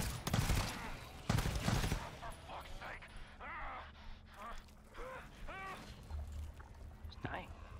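Gunfire in the co-op shooter game GTFO: two loud rapid bursts up front, then quieter scattered shots while voices talk over the action.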